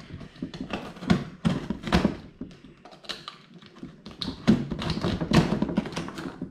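A shipping package holding a scooter giveaway prize being torn open by hand, with irregular close taps, rustles and rips of packaging that come in clusters, and no talking.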